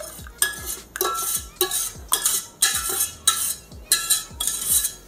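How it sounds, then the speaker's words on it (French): Hot strawberry jam is pushed through a metal sieve with a utensil, making a regular series of scraping, clinking strokes roughly twice a second, close and fairly loud with no talking. "on vient la passer au tamis"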